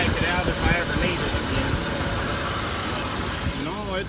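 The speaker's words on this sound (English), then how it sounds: "No, it's running good," A truck engine, its exhaust pipe smashed, idling smoothly at close range as a steady, even rumble that holds unbroken throughout, with faint voices in the background.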